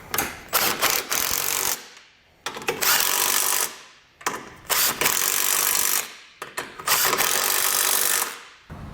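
A ratchet with a 13 mm socket tightens base plate bracket bolts on a 2019 Chevrolet Equinox, giving bursts of rapid clicking in four separate runs with short pauses between them, close and fairly loud.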